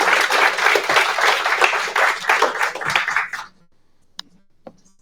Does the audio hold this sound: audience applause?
yes